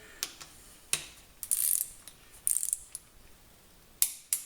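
A preset torque wrench tightens bolts during short block reassembly, giving a series of sharp, distinct mechanical clicks and ratcheting snaps with short pauses between them, close and clear against a quiet background.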